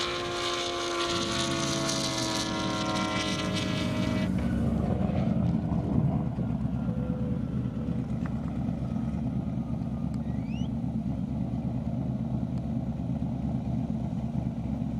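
A 2009 BMW 135i race car at an airstrip racing event, its engine heard first as a loud rising whine with strong harmonics, then dropping off into a steady low drone with wind noise as it passes and pulls away.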